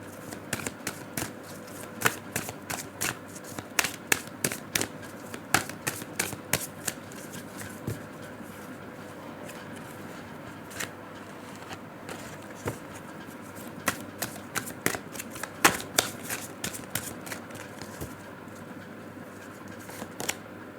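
Tarot cards shuffled by hand, giving a long run of close, crisp riffling and slapping bursts over steady room hiss, with no talking.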